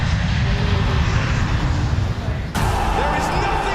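A loud, steady airplane engine roar rises as the aircraft takes off, with a sudden shift in the noise partway through and a voice speaking over it.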